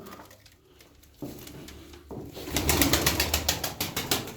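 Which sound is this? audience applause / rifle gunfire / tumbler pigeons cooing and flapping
tumbler pigeons cooing and flapping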